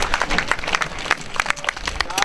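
Spectators at a masters cycling race in Porreres clap and cheer as a rider arrives, with scattered, uneven applause and crowd noise beneath a man's close, continuous commentary.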